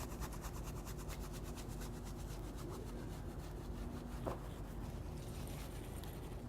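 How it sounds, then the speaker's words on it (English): A brush scrubbing oil and grime off a motorcycle, with rapid, rhythmic back-and-forth rubbing strokes, close and fairly soft, slowing toward the end. "with my brush here, I'll just scrub it to help loosen up any of that oil or filth that's on there"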